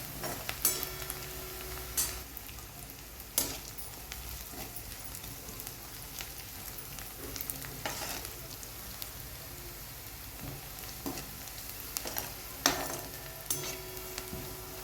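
Moong dal sizzles and fries with sautéed onion in a pan, a soft, steady crackle with scattered sharp clinks and scraping taps of a spoon at irregular intervals.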